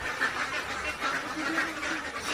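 Khaki Campbell ducks quack in a continuous, overlapping chorus, moderately faint and fairly close, with no talk over them.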